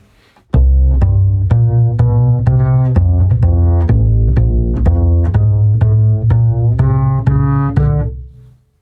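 A plucked jazz bass line played alone, with evenly spaced notes in a steady rhythm, including a stepwise chromatic run before the final note fades.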